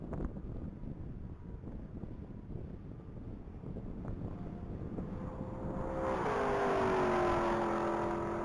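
A red 2018 Lexus LC500 making a top speed pass on a mile course, with wind-buffeted roar building steadily and rising engine tone swelling loud and near toward the end.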